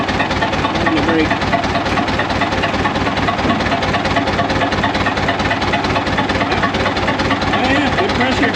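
An old bulldozer's diesel engine idles steadily and close by, a dense rhythmic knocking chug running without pause throughout.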